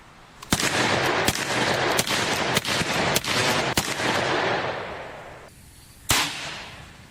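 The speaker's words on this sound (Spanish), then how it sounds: "una noche oí disparos procedentes del arrecife" A rapid series of sharp gunshots cracks out over several seconds, fairly loud with a reverberant tail, then one final isolated shot after a brief pause.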